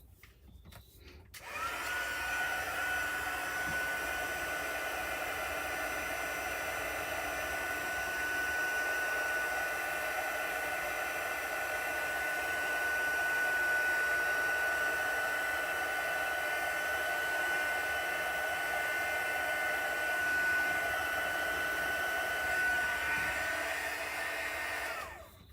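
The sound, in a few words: heat gun blowing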